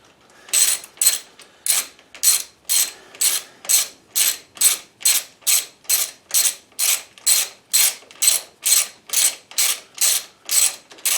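A socket wrench ratchets in steady, evenly spaced bursts of sharp metallic clicking during axle reassembly, close and loud, about twenty strokes with no talking.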